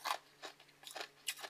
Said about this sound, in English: I guess chewing on all them pig feet make you just tired